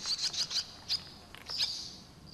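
A swallow gives a rapid series of sharp, high alarm chirps as an owl raids its nest, loud and close, in quick bursts with brief pauses.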